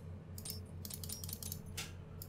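Quick papery riffles and light clicks of an Arkham Horror card deck being shuffled, close and fairly quiet, over a low steady hum.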